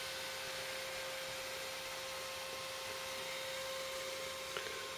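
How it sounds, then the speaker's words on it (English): A server's CPU cooler fan makes a quiet, steady whirring hum with a faint constant tone, unbroken throughout. "the noise you're hearing is just the CPU cooler"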